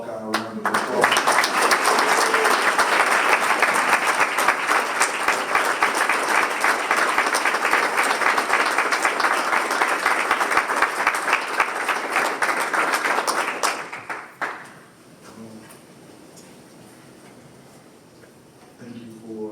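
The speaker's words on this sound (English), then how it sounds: "Let's give him a Buckeye round of applause" A large gathering of men gives a long, loud round of applause, dense clapping holding for about fourteen seconds before quickly dying away to low room noise.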